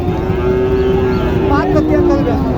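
A bull at a cattle market lets out one long, loud, low moo close by over a rough background of outdoor noise.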